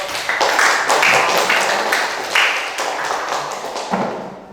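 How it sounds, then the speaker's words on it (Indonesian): A classroom group claps together in a short burst of applause, with dense, fast hand claps lasting a few seconds and tapering off, with no speech over it. "Beri aplaus untuk"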